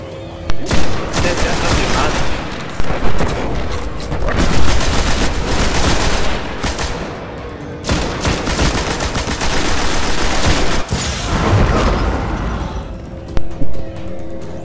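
Concentrated gunfire erupts in a video game as players focus fire on a target, with dense, loud bursts of shots and booms continuing almost nonstop, close and intense.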